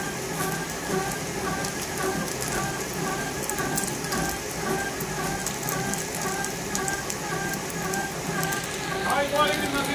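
A batasa sugar candy making machine running in a workshop, giving a steady mechanical rattling and ratcheting clatter with a rain-like patter of sugar pieces, continuous and close, with someone talking over it.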